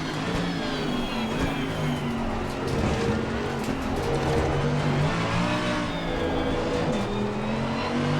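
Mercedes AMG GT3 race car engine in the Assetto Corsa Competizione racing game at Zolder, a loud continuous roar rising and falling through gear changes, with brief tire squeal and no talk.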